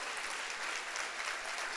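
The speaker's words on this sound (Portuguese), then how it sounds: "Você pode aplaudir ao Senhor?" A church congregation applauding the Lord during a Portuguese-language sermon, a steady, even wash of clapping that fills the whole moment without breaks, heard at moderate distance.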